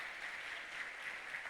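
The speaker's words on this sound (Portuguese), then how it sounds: "A salva de palmas para Jesus." Steady, dense applause from a church congregation at a celebration service, even in level and moderately distant, a continuous wash of clapping with no voices on top.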